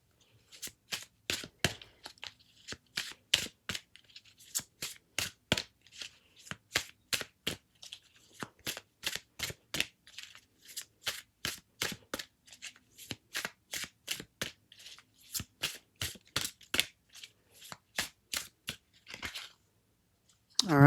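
Tarot cards are shuffled repeatedly in quick, crisp riffling bursts that come in an uneven rhythm, close and clear, with faint speech at the very end.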